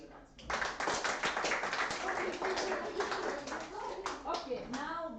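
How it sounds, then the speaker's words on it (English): Children clap their hands together in a school classroom during a lesson, with steady, dense clapping under lively young voices and chatter throughout. "Bravo, clap your hands for"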